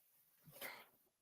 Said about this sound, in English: Pepper. Sorry, that's my dog.